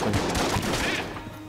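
Huntsman gun firing in the video game Enter the Gungeon: a quick run of close, loud shotgun-like blasts over about a second and a half, trailing off into quieter game noise.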